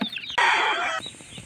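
A mother hen gives a short, loud, drawn-out squawking cluck close by as she is separated from her chicks, with a few softer clucks and chirps around it.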